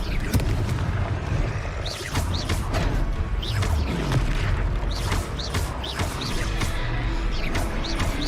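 Heavy, dense booming blasts and crashing impacts from a Confringo fire spell in the Hogwarts Legacy video game, loud and continuous with swooshing bursts layered over a thick rumbling bed.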